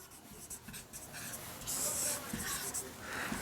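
A pen scratches steadily across paper as notes are written, close and clear, with soft strokes running continuously.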